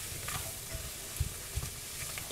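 Garlic and onion soften in a hot pan for smoked sausage and beans, giving a continuous dense sizzle with a couple of soft thumps of stirring, steady and close, with no one talking.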